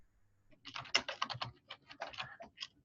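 Rapid, irregular keystrokes on a computer keyboard as a comment is typed, close and clear with brief pauses between bursts.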